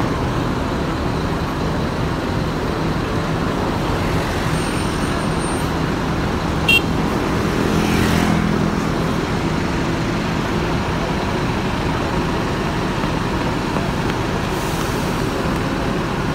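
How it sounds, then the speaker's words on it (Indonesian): Busy roadway traffic as a Gumarang Jaya intercity bus bound for Jakarta pulls in, a continuous loud rumble of engines and tires with a brief horn toot partway through and a swelling pass-by near the middle, no voices. "Masuk satu unit lagi bus Gumarang Jaya menuju Jakarta."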